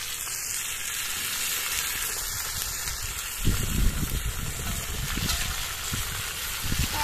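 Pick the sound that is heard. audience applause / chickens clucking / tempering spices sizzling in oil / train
tempering spices sizzling in oil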